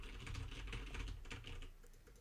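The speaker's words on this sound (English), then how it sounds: "I am now typing on the keyboard and clicking on the mouse." Computer keyboard keys clatter in quick, irregular bursts alongside occasional mouse clicks, close to a dynamic microphone and steady for the whole stretch with no voice.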